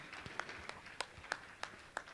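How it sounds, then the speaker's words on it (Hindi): An audience applauds to honour gold donors at a religious gathering, heard as faint, sparse, evenly spaced claps, roughly three per second, coming from a distance. "आप जोरदार ताली बजाकर इनका सम्मान करें।"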